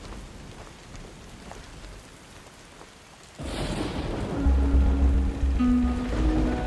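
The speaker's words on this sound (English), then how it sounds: "In the light of the gathering storm" Steady rain and a thunderstorm in the video game Sword & Sworcery: soft rainfall hisses at first, then a deep rumble of thunder swells in and keeps growing louder alongside faint tonal notes.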